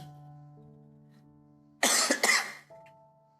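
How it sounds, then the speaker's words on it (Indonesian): An older man coughs, a short burst of two or three harsh, loud coughs breaking out of a faint steady hum. "Penyakitnya batuk."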